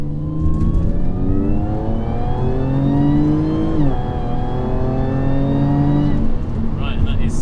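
An Audi S4 B8 with an open filter intake accelerates hard, its supercharger whine rising sharply in pitch, dipping at a gear change, then climbing again over the engine roar.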